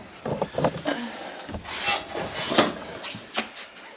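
Thin vented panel cracking and tearing out around a stuck screw, a series of close, scraping and splintering rasps in uneven bursts with short pauses.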